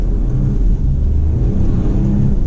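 A 2020 Porsche Macan S engine hums steadily and builds as the SUV accelerates in Sport Plus mode, a low, smooth drone close by with no loud exhaust.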